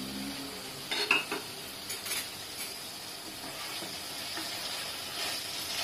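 Vegetables for a veg pulao sizzle in a pan with a steady, soft hiss, broken by a few brief clinks and scrapes of stirring early on, with no talking.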